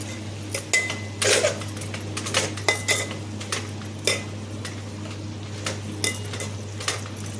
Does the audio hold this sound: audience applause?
no